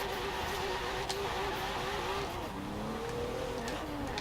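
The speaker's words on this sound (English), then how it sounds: "the revs pick up really fast now" A Porsche 911 (992) in Forza Horizon 4 revs hard through a run of quick upshifts, the engine tone climbing and dropping in steps at moderate loudness with faint tire noise beneath.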